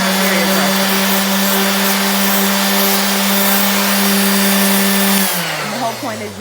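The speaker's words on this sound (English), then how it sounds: "This one is called the Random Orbit Sander" A random orbit sander working on a wooden dresser, sending out a loud, steady electric whine with a high rasping edge that holds constant before the motor spins down near the end.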